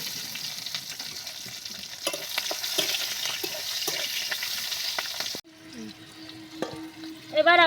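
Dried chillies, bay leaf, crushed garlic and green chillies fry in hot oil for a shrimp and taro-leaf dish, a loud, steady sizzle with stirring scrapes that drops suddenly, followed by quieter clinks and clatter.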